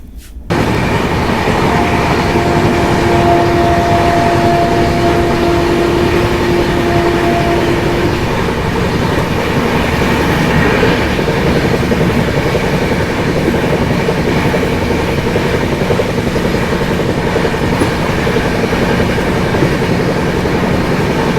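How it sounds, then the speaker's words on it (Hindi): Inside a 2AC coach of the Amritsar–Chandigarh intercity train, a steady loud rumble of the moving train continues throughout, with a faint high whine early on and no talking. "2 AC का कोच मेरे लिए चल रहा है पूरा आज"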